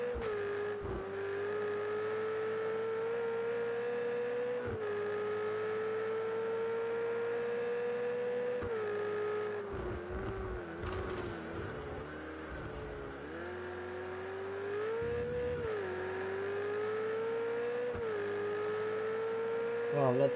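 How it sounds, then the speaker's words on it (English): A Ferrari race car in the racing game Project CARS 2 drives a lap at the Zhuhai circuit, its engine droning loud and steady with pitch rising and dropping through shifts and braking, while a commentator talks over it. "those brakes on that Ferrari are amazing"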